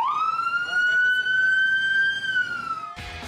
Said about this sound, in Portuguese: Ele subiu na moto da PM, entrou na viatura e até acionou sirenes.